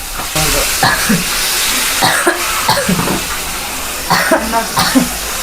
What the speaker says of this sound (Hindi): उसका वो खांसी आ रही है यार, ठसका लग रहा है उसका